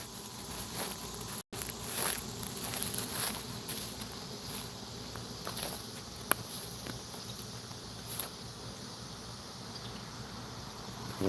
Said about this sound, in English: So yep, got a little swarm happening.